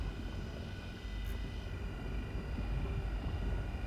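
A Star Citizen spaceship engine throttling up to full power, a steady low drone with a thin whine above it that swells slightly louder, with no talk over it.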